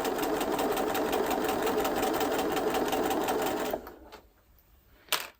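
A sewing machine stitches a short holding stitch while making a small pouch for a baby tooth, running steadily and loudly for several seconds before stopping, followed by a faint click.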